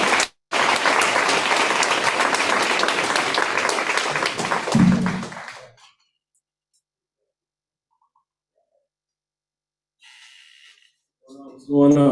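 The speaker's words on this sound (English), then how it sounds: "please give him a great round of applause and welcome him" An audience breaks into loud, dense applause to welcome a speaker to the stage. The clapping fades out after about five seconds into silence, and brief voices and shuffling follow near the end.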